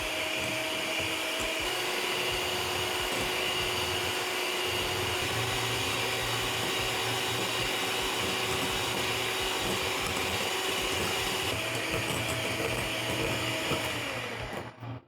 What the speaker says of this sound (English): I'm going to use my mixer and mix the icing sugar and whipping cream together until doubled up in size